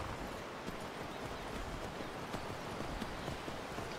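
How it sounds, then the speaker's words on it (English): Horse hooves pound in a steady rapid rhythm in the video game Skyrim, a muffled clip-clop over a dense rustling wind-like background, moderately loud and continuous without any talking. "Get on your horse."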